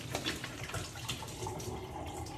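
Water gushes quickly out of a plastic bottle being emptied in a kitchen, a steady close splashing and gurgling pour that runs continuously for a couple of seconds with no voices.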